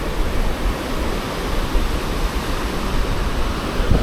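Sea waves wash steadily onto a beach at Jurerê in Florianópolis, a continuous broadband surf roar with soft swells and no voices.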